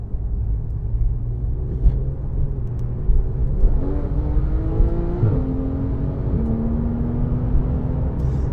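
A Porsche GT3 Cup race car on a cold, wet December day, its engine a steady close whirring drone with gear-like pitch steps and rising revs in the middle, loud and unbroken with no talk.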